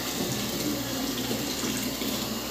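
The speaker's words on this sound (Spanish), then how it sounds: "Creo que ya está jalando agua." Water runs steadily from a tap in a plumbing setting, a loud continuous close rush that holds even throughout with no talk.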